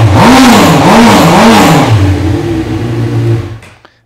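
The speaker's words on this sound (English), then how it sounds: "You can hear it's a nice deep rumble to it. It's not too loud, not too obnoxious," A Honda CB 1000R motorcycle engine revs up and down indoors, loud and close, with a deep rumble and rising, falling pitch that settles to idle before it is shut off.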